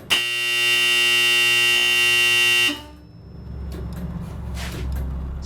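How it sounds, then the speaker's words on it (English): An old junior high school scoreboard's score buzzer blares a loud, steady electric tone for nearly three seconds, then stops abruptly, leaving faint room noise and a few small clicks. "So this is the score buzzer."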